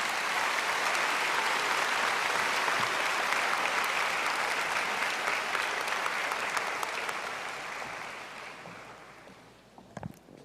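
Commencement audience at the Morehouse School of Medicine 2023 exercises applauding the keynote speaker: a broad, sustained wash of many hands that holds steady, then gradually fades away near the end, with a few stray sounds at the close.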